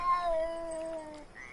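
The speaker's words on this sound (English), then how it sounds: "These cats," A cat in the video game Conan Exiles gives a single drawn-out meow that slides gradually downward in pitch, close and clear, with a faint higher squeak at the end and no talking.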